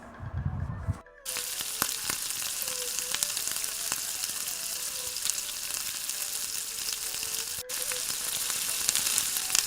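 Fish fries in a pan with a steady, bright sizzle that carries through nearly the whole stretch after a short low rumble at the start, with a few faint clicks along the way.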